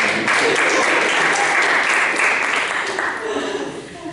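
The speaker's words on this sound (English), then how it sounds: "Thank you very much for giving her a round of applause." Audience applause at a humorous speaking session, a continuous round of clapping from a crowd that slowly tapers off, with a voice audible underneath.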